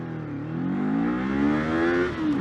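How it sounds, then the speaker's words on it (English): Kawasaki 500 motorcycle accelerating hard, its engine note climbing steadily in pitch over a couple of seconds as it revs up, loud and close with no talking. "Let's do a little acceleration test here"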